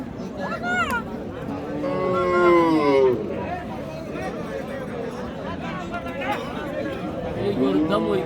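At the Raniganj cattle market in Dinajpur, a Sahiwal cow lows in drawn-out moos amid steady crowd chatter and nearby talking voices.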